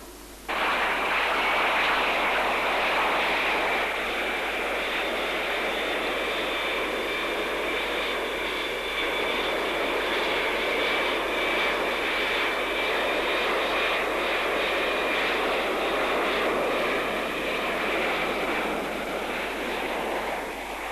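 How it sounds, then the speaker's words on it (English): A swivel-jet V/STOL prototype jet fighter flies past, its loud continuous engine roar holding steady for about twenty seconds with a high whining tone riding over a broad rushing noise, no voices. "prototype of the swivel jet vertical or short takeoff and landing jet fighter"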